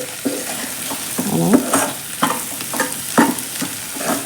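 Bitter gourd stir-fry sautéing in oil in a pan, with a steady soft sizzle and several close, scraping stirs at irregular intervals, no talking.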